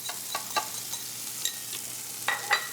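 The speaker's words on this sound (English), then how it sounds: "And we'll simply mix that around." Beaten egg and grated Pecorino Romano for carbonara are stirred in a bowl, giving soft, close scraping and clicking of a utensil in a few irregular strokes.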